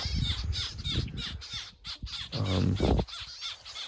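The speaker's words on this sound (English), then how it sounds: "look at the birds are just going ape." Crows squawk and caw loudly and repeatedly outdoors over a soil-covered yard, harsh overlapping calls running through the whole stretch with brief pauses between bursts.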